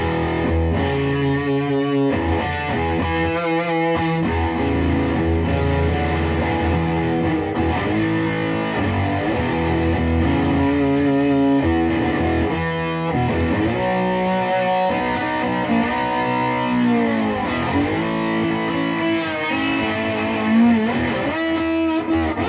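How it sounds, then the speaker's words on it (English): Electric guitar with a PAF-style humbucker through aggressive distortion, playing dense, sustained chords and riffs continuously for the whole stretch, loud and up front with no talking. "I'm going to put on a distortion that's a little bit more aggressive so you can hear how it's going to sound with a more aggressive distortion"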